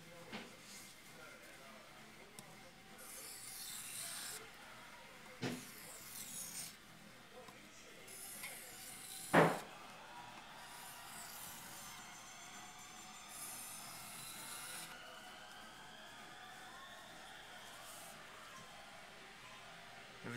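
A Les George VECP knife edge drawn across a 1000 grit whetstone, giving a steady soft rasping scrape in repeated strokes at close range, with one sharp click partway through.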